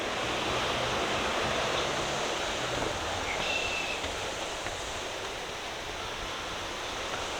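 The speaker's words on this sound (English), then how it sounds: "They got a nice waterfall over here." A waterfall on the grounds of an outdoor classic car show roars in a steady, dense wash of rushing water that holds loud and unchanging throughout, with no voices over it.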